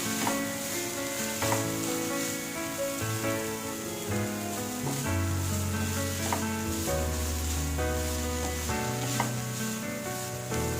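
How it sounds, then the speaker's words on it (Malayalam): Kerala-style beans thoran sizzling in an open pan as it is stirred, a steady crackling fry with a few soft stirring knocks, and music playing underneath. "ഇനി ഇതിനെ നമുക്ക് ഇളക്കി കൊടുക്കാം."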